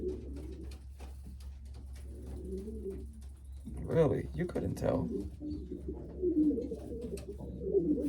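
A medium-sized Staff Van Riet racing pigeon, part Cassart, gives low burbling coos in a loft while someone talks over and between them, with a constant low hum underneath.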